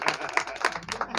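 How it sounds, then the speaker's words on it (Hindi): A crowd at a community Gair folk dance gathering in Pali claps for a performer, uneven bursts of hands at moderate loudness, a scattered, lively patter rather than a full roar. "उनके लिए बहुत बहुत तालियां।"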